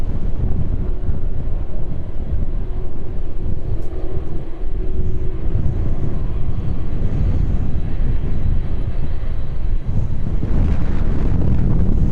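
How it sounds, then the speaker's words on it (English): Loud, blustery wind gusts buffet the microphone in a continuous roar at an airport, surging and easing, with a low rumble underneath. "Wind gusts picking up just in time."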